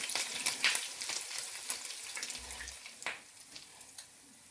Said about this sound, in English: And then fry again on this side for 1 minute.